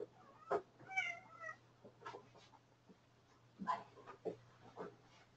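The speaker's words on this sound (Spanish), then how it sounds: "El gato." A cat meows a few times indoors, fairly close, with short separate calls spread over several seconds against a low steady hum.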